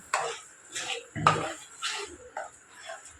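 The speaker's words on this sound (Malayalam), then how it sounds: "നന്നായിട്ട് ഇളക്കി കൊടുക്കുക" A spoon stirs soya chunks curry in a pot, giving a few separate scraping clinks and knocks against the metal, close and fairly quiet, with no talking.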